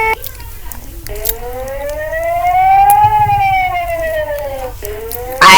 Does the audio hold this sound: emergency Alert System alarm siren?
yes